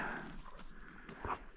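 A hunting dog on a chukar hunt in the Hells Canyon backcountry gives a faint, brief whimper amid quiet outdoor rustling and soft movement, with no speech.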